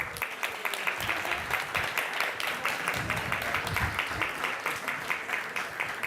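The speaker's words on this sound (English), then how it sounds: "We can give a round of applause for each level" Sustained applause from an audience honouring devotees at a Krishna Katha gathering, steady dense clapping throughout with faint voices mixed in.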